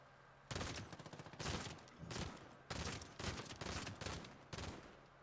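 Bursts of gunfire in the video game Call of Duty Modern Warfare multiplayer: several loud, rapid automatic volleys separated by brief gaps, crisp and close, with no talking.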